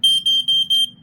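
A Norelco Safety Dicon 350 smoke alarm gives four short, piercing electronic beeps in quick even succession, loud and close, then silence.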